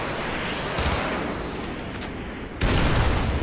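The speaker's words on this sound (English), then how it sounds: "Ramirez, use your laser designated to call an artillery on those vehicles" Artillery strike on enemy vehicles in Call of Duty: Modern Warfare 2 Campaign Remastered, a dense continuous roar of explosions and gunfire that swells into a heavier burst of blasts near the end, loud and close.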